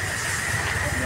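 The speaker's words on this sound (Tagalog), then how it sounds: "Kumukulo na." A pot of water on the boil gives off a steady rushing hiss with low bubbling rumble beneath, continuous and close.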